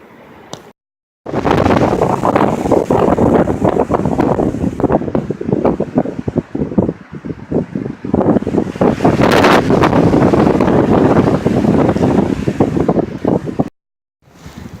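Strong wind buffets the microphone on a ridge top, a loud, roaring gusty rush that runs almost continuously for about twelve seconds, bracketed by brief quiet moments.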